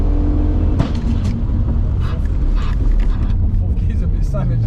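A 500 BHP Audi A4 pulls hard in fourth gear, its engine roaring steadily from inside the cabin with a few sharp crackles and pops as people talk over the noise.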